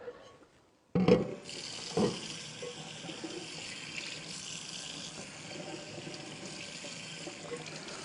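An item rinsed off under running water at a sink: a sharp clunk, then a steady, fairly close rush of flowing water that continues to the end.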